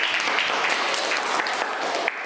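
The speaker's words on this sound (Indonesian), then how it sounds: "Betul sekali. Tepuk tangan untuk kita." A classroom of students bursts into brief, dense applause during a science lesson, a loud steady clatter of many hands up close.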